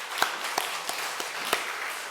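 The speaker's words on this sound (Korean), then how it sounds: "하나님께 영광의 박수 돌려드리겠습니다" Sparse clapping rings out in a church service, a handful of separate sharp claps spaced irregularly over a couple of seconds, moderately close.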